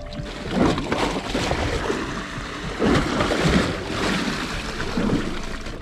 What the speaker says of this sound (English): That's the fill up, and that's the water spilling in.